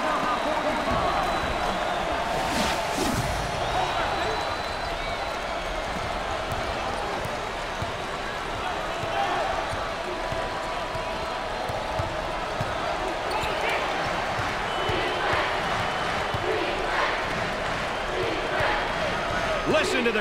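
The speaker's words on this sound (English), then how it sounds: "Listen to the crowd." Crowd at a Syracuse college basketball game against Colgate, a loud continuous roar of the arena audience with ball bounces and bursts of cheering and clapping, an announcer speaking over it.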